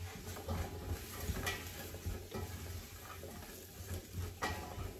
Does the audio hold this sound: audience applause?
no